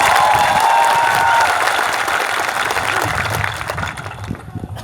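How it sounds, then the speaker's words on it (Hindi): Audience applause for a candidate at an election rally for the Tipra Motha party, a broad crowd clapping that starts full and gradually thins and fades over about five seconds. "ताली दीजिए"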